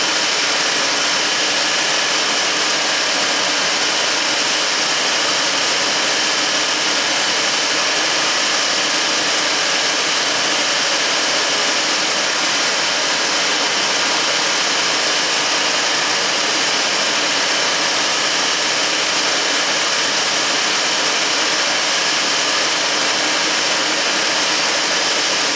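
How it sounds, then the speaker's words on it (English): A car engine with a random P0300 misfire and lack of power, a loud continuous roar holding steady as revs climb, with no clearly separate stumbles standing out. "it's just some kind of weird misfire"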